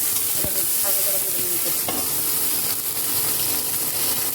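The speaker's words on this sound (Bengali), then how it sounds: "সবজিটা আমি আগে ভেজে নেব। সবজিগুলোতে আমি হালকা তেল দিয়ে" Vegetables frying in a little hot oil for sambar, a steady, loud, close sizzle with stirring scrapes throughout and a few sharp utensil knocks.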